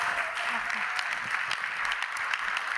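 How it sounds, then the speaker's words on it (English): An audience applauds after a speaker's introduction at a talk on sustainability, steady moderate clapping heard from a slight distance. "Give a round of applause to Erin Schrode."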